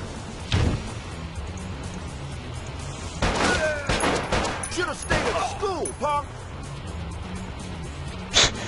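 Firecrackers going off outdoors, a few sharp bursts and a cluster of crackling pops in the middle, moderately distant against a steady background hum.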